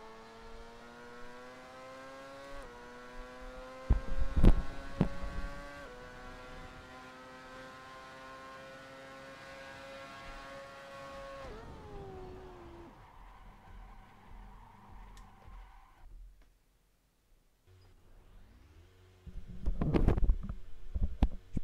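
A racing car laps a circuit in Assetto Corsa, its engine note rising and falling through gear changes with harmonic sweeps, dropping away partway through before louder bursts and revving return near the end.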